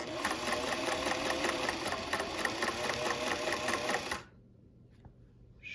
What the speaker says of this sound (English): So next will be the videos of me sewing on